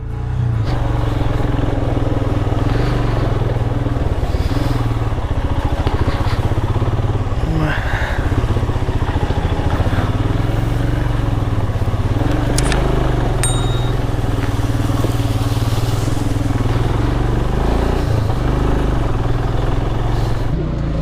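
Royal Enfield motorcycle ridden on a mountain road on a Nepal trip to Mustang: a steady, close engine drone throughout with wind rush, a few faint metallic dings, and a rider talking over it.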